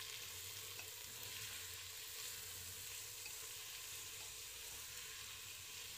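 Onions sizzle in a pan for a chicken gravy, a soft, even frying hiss heard steadily with no talking.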